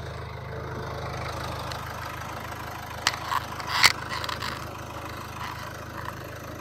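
A Volvo/Ford car engine with a Powershift automatic gearbox idles in park in a workshop, a low, steady hum with a few faint metallic clicks and scrapes partway through.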